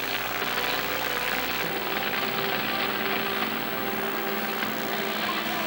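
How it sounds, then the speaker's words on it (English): A 1995 Chevrolet C10 monster truck's 540 cubic inch engine idles steadily with a deep, continuous rumble, loud and close, with no voices. "A 95 Chevrolet C10 540 cubic inch engine."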